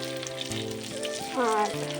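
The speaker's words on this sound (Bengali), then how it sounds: "এদিকে মাছ ভাজা করছি" Fish frying in a pan makes a soft, steady sizzle alongside tonal background sounds and a brief rise in level near the end.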